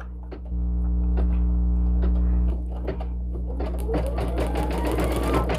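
A single needle embroidery machine stitching a design onto a hoodie held in a magnetic snap hoop, a loud steady mechanical hum with rapid rhythmic needle thumps, close and continuous throughout.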